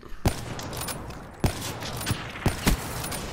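Sharp gunshot cracks in Call of Duty: Black Ops III, including a sniper rifle quick scope shot. Four loud, close reports ring out at irregular intervals over steady game ambience.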